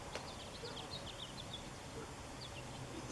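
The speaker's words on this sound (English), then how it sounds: "listen to the birds singing." Birds sing outdoors in a string of faint, high, scattered chirps and short trills at a distance, over a quiet background hiss with no talking.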